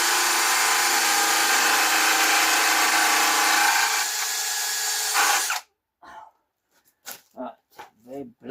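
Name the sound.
drill with a blunt bit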